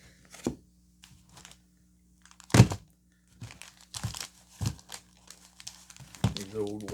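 Wrapper of a 1986 Donruss baseball card wax pack crinkling and tearing open in close, scattered bursts, with one sharp loud rip, alongside light handling noise and brief talk.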